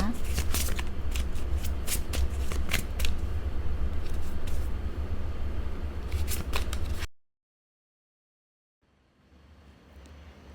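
A deck of tarot cards is shuffled close up in quick, papery riffles and flicks for several seconds, then the sound cuts to silence before faint room noise returns.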